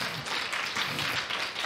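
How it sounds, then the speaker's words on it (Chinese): A church congregation claps together in a short, lively burst of applause, with a brisk, uneven patter of many hands close by. "给天父一个大大的掌声。"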